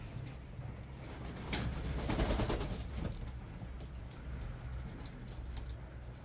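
Homing pigeons coo softly in a loft during winter while being fed fresh green grass, with a low, steady hum and a few brief clatters around them.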